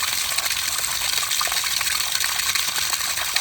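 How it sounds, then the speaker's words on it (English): Water gushes steadily out of a sprayer tank through an opened valve, a loud, close, continuous rushing splash with no talking. "I'm going to open the valve here. We're going to let the tank drain and get any sort of cruddy stuff that's in here"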